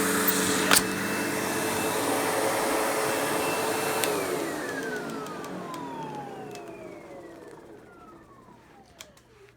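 A Windsor Sensor XP12 upright vacuum cleaner, also sold as the Sebo Automatic X4, roars steadily at first and then winds down, its motor pitch sliding lower as it switches off and fades.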